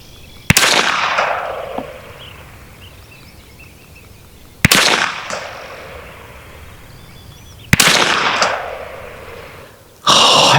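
Three loud, sharp shots from a Huben GK1 semi-auto PCP air pistol fired off hand at 100 yards, each a crisp crack with a short decaying tail, spaced about three to four seconds apart, with a fourth shot starting at the very end.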